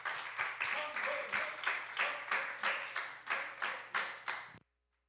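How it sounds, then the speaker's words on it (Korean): A church congregation claps together at a Sunday afternoon worship service, steady rhythmic clapping in roughly even bursts for about four and a half seconds before stopping abruptly into silence. "이 모든 일을 이루신 그 주님께 영광의 박수 올려드리겠습니다"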